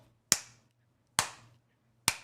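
Three sharp, isolated claps, spaced about a second apart, each close and crisp with a short ringing decay into near silence.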